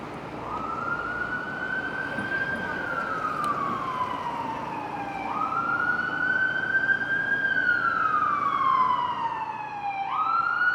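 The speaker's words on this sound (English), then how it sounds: "Wouldn't be a ride through downtown without an emergency vehicle" An emergency vehicle siren wails through downtown Toronto street traffic, a steady rising and falling tone sweeping in long cycles, fairly close and prominent over a low rumble of road noise.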